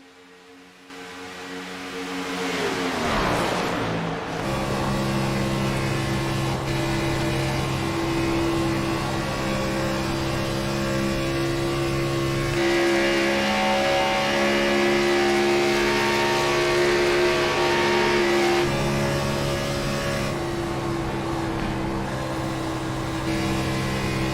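NASCAR race car engines in a sim race at Atlanta roar loudly and continuously, the droning pitch rising and shifting as they rev, with no pause throughout.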